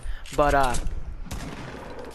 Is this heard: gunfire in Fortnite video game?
yes